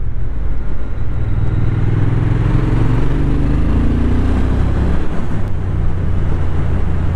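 A Triumph Speed Twin 1200 RS motorcycle engine roars steadily and close, a deep throbbing drone whose pitch creeps upward as it accelerates.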